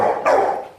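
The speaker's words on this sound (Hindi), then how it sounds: "फिर भौंक रहा है, गुस्सा कर रहा है।" A Rottweiler puppy lets out a single sharp, loud bark close by, with a brief trailing whine, sounding angry while playing with a newspaper indoors.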